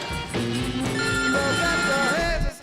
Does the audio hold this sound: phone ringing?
yes